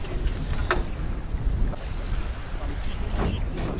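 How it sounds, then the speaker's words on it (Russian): Strong wind, about 15 m/s, blows across a boat out on open water during jig fishing, a steady broadband rush with a few gusty swells and occasional clunks, and no voices. "Ветер, он даже не успокаивается нисколько."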